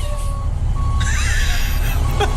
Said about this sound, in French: le bruit du camion de la voirie qui recule